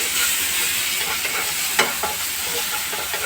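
Chopped tomato stirred into reddened frying onions for an egg curry, a continuous close sizzle with scraping spatula strokes and a sharp clink near the middle.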